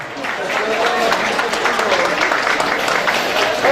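At a village solidarity evening, an audience applauds as a speaker is handed the microphone, giving steady, dense clapping from a crowd that holds evenly throughout with some voices underneath.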